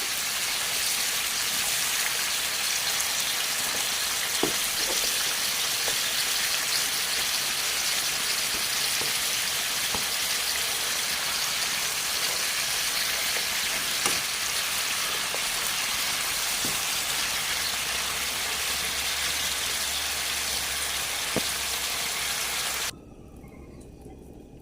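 Bamboo shoots boil in a pan, giving a steady, close bubbling hiss with occasional small pops and crackles that runs evenly before cutting off abruptly near the end.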